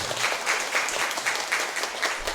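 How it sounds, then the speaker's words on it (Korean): A church congregation gives warm applause during a Sunday worship service, a dense wash of many hands clapping that swells and fades slightly over a couple of seconds. "박수 한번 우리."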